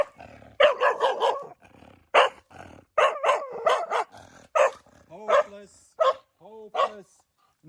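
A dog barks and growls in repeated sharp bursts, loud and close, with short pauses between volleys and some yipping toward the end.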